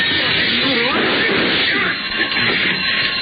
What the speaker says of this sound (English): Ever break a plate glass window? Well, I did.